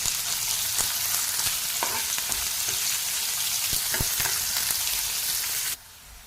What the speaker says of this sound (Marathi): एक मोठा कांदा घेतलेला आहे आणि हा कांदा आपल्याला परतून घ्यायचा